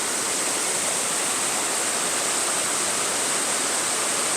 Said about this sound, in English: You can hear me over the roar of the water running over the falls.